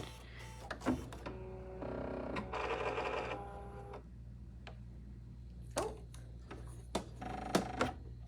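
A Bernette sewing machine starts up and stitches in short bursts, a brief rapid mechanical whir followed by scattered clicks and beeps from the machine, close and clear with no talk.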